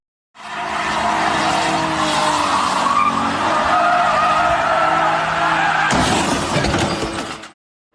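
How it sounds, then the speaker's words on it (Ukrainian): Loud, sustained tire squeal from a drifting car over roaring engine noise, with a sharp change in tone near the end. "Вереск гальм, нестерпні децибели двигунів та несамовитий рик мотоциклів."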